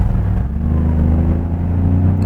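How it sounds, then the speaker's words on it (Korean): A Genesis GV80 facelift SUV engine in sport mode roars steadily and loudly at full throttle, a low growling drone that holds at high revs throughout with no talking. "자, 저속에서 고속으로 풀악셀!"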